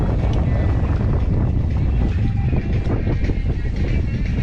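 Sailboat moving at about 4.5 knots in 12 knots of wind, with steady rushing wind buffeting the microphone and the wash of water along the hull, loud and continuous.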